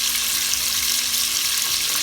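Onion frying with smoked meat and fat in a pan, a loud, steady broadband sizzle that runs unbroken throughout, with faint stirring underneath and no voices.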